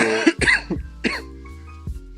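Several sharp coughs burst out up close in a quick cluster, followed by a softer throat-clearing cough near the end, with no talking.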